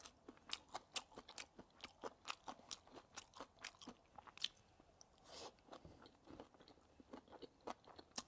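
Salmon sushi made with pickled long beans and chili sauce, chewed close up with a steady rhythm of crisp crunchy bites, fairly faint, no speech.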